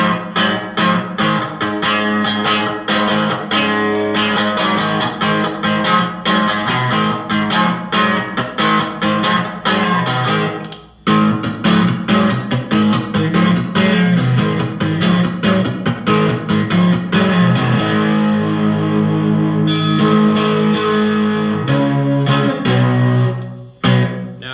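A dual-pickup cigar box guitar is strummed and picked through a Fender Mustang amp with mild distortion, playing a continuous bluesy riff with steady attack, loud and close, with one short pause midway.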